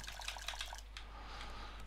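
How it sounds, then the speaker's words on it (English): In the survival game Raft, bottles are filled with water, giving quiet dripping and trickling liquid sounds with a few brighter splashes near the beginning. "so I can fill up with my bottles with water"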